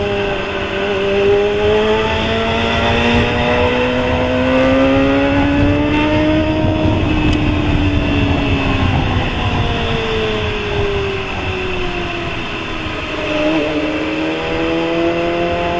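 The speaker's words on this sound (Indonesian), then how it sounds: "At least beberapa kali bisa narik gas sampai RPM tinggi gitu ya" A Kawasaki ZX-25RR motorcycle on a smooth toll road in morning traffic, its engine revving up to high RPM several times with rising and falling whine, loud and steady throughout with wind rush, no talking.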